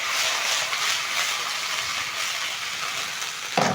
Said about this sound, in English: I'm going to place in my beef chunks in the onions